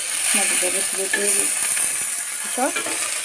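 Rui fish and vegetables frying for a Bengali fish curry give a steady, close sizzle, with bursts of spatula scraping and stirring in the pan and faint background voices.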